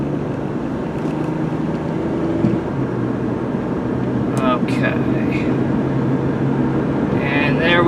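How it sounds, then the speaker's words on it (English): Cabin sound of a 2003 Nissan Maxima GLE sedan accelerating on the road: a continuous engine hum and road rumble, with a few faint higher transients and a brief trace of voice partway through. "I'm just going to pull out here, drive normally, accelerate up to about 50-55 miles an hour."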